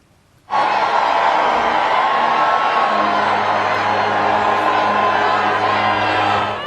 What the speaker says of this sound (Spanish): Ahí hubo de todo, aplausos, incluso abucheos